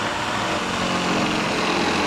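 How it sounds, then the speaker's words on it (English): A power drill bores a hole through a car roof, a continuous loud whirring grind that holds steady for about two seconds with no talk. "I'm gonna drill the hole to feed the wire through."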